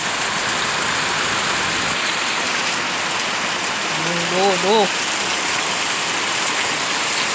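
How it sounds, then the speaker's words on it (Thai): Heavy rain pours steadily outside a house in the hills, a dense continuous hiss with water running, while someone talks excitedly over it. "ฝนตกเยอะมาก"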